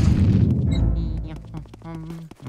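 A deep rumbling boom from exploding enemies in the Luigi's Mansion game rolls out at the start and fades, followed by lighter tonal game effects and some voice.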